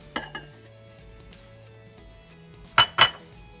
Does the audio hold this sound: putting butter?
yes